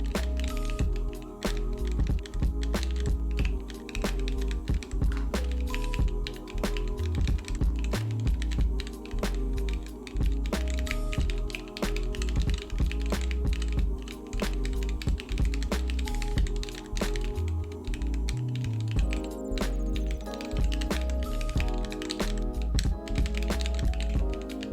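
Keys on a computer keyboard clack in steady, continuous typing while code is written for a database seed file, with dense, irregular clicks and a low musical bed underneath throughout.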